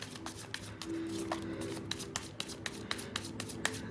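A Cigano (Lenormand) card deck is shuffled by hand, quick riffling flutters and soft taps repeating close up over a low steady background hum.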